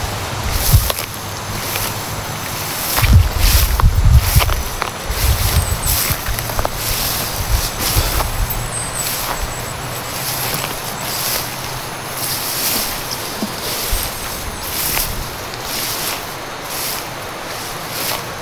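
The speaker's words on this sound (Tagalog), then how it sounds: "sobrang lakas kasi ng agos ng sapa" Strong creek current rushing loudly and continuously nearby, a broad watery roar with gusty surges and scattered splashes, with no voices.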